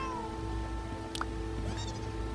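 A cat in the Roblox video game gives a short meow over a constant bed of tonal game music and background hum, followed by a fainter second mew.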